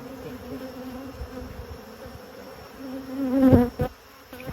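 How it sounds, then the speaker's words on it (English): A dense swarm of honeybees drones steadily around an open hive under inspection, one of several hives. The hum is continuous and close, with a louder burst as bees pass near, and no talking. "There's so many bees."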